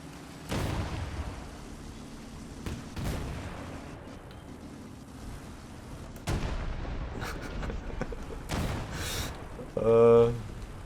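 An SU-152 tank destroyer's heavy cannon in War Thunder booms a few times, each a deep, loud report with a lingering rumble over steady engine drone, and someone talks between shots.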